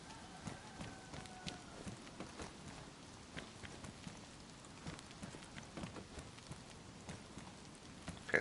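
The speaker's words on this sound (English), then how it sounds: "Okay, it's starting to rain," Steady rain falling in the video game DayZ, a dense, even hiss of drops with scattered sharper taps, continuous throughout and fairly close.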